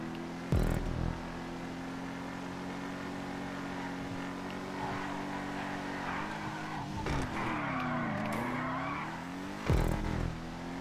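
Ubermacht Revolter sports car in the GTA 5 video game, its engine humming steadily while tires squeal and skid through a corner, with sharp thuds at the start and end.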